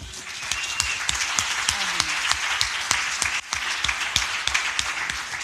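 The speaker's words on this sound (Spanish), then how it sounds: "Dele un fuerte aplauso a Él." A church congregation breaks into applause, a lively stream of individual claps with distinct sharp hits over a continuous hand-clapping wash, close and fairly loud throughout.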